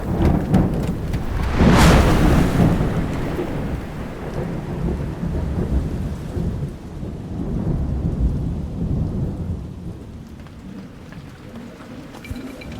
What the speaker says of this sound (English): thick droplets of rain begin to hit the rough-hewn ground